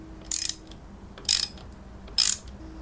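Ratchet tightening an NGK spark plug on a Kawasaki ZX130 engine, producing three short, crisp bursts of clicking up close, separated by quiet pauses.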